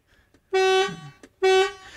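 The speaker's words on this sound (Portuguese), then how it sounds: "tem duas buzinas, ó. Tem essa buzininha e se você mudar aqui" Two loud blasts from a Mercedes-Benz Arocs 8x4 truck horn sound close by, each about a third of a second long, separated by a brief pause and a faint click.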